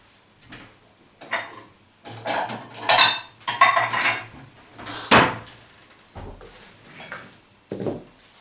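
Pots, lids and utensils clatter and clank in a home kitchen as millet is taken out, with a series of sharp metallic knocks and scrapes spaced irregularly, close and fairly loud.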